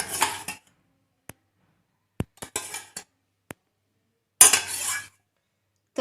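Rabri being spooned into a bowl, heard as sharp, close metal-on-dish clinks and scrapes in short separate bursts with silences between.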